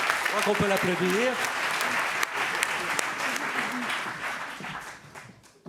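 An audience at an award ceremony for a fintech start-up breaks into sustained applause, dense clapping filling the hall and slowly fading out, with a voice speaking briefly over it near the start.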